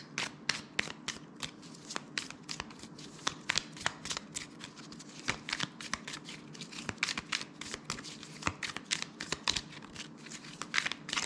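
Tarot cards being shuffled by hand in a rapid run of crisp riffling slaps and flicks, steady and close throughout, with no voices over it.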